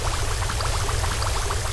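In the Kick the Buddy video game, water pours in a steady, gushing splash that keeps going at an even level, loud and close throughout the short stretch.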